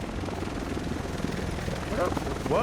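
Helicopter in the video game Tom Clancy's The Division, a steady low rotor rumble filling the background throughout, with a brief higher whirring sweep near the end.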